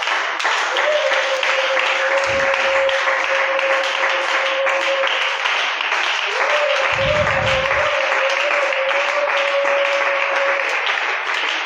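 A congregation at an Easter church service gives a long round of applause, dense steady clapping filling the room with a sustained held tone and brief low thumps underneath.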